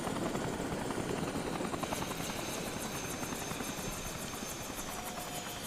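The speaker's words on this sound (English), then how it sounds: "And then Frank got crushed by the helicopter." A helicopter in the video game Dead Rising: steady rotor thrum and whine fill the whole stretch, loud and continuous with a rapid chopping pulse.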